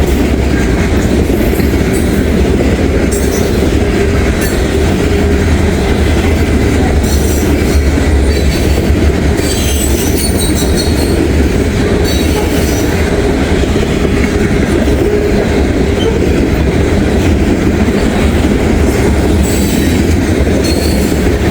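A freight train's cars roll steadily past close by, one car with a badly failing wheel bearing, giving loud continuous rumbling with clicking wheel joints and metallic squeals throughout.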